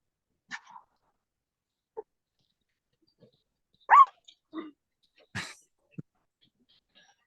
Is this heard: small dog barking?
yes